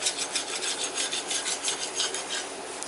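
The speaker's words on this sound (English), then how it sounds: "got a pretty sharp scraper here, and I'm going to get all this rust" A sharp hand scraper rasps rust off a metal part on a workbench in steady, rhythmic back-and-forth strokes, close and clear with no talk.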